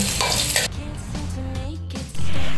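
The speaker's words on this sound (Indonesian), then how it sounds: "ini bawangnya saya tumis dulu sampai harum ya" Shallots sauté in a pan with a loud sizzle at first that drops to a softer fry, with utensil scrapes and clinks as they are stirred, then the sizzle surges again near the end.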